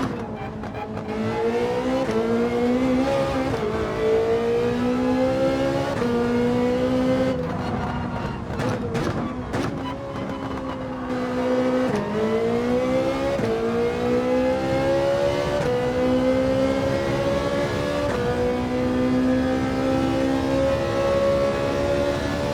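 Race car engines roar continuously in an online Gran Turismo 7 race, revving up through gears and dropping on shifts in a repeating rhythm, loud and alone.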